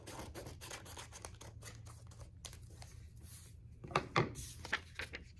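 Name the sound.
scissors cutting paper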